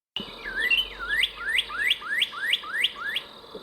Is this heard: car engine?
no